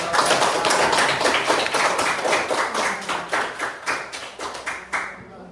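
Audience clapping at an Islamic school gathering, a loud burst of many hands that thins into a slower, rhythmic clap before fading out, with faint talk underneath.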